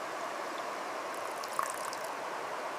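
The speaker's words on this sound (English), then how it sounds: "The mountain stream water, cold and pure, is the perfect starting point." Cold mountain stream water flows with a steady, even rushing and trickling sound at close range, quiet and continuous, with no talk.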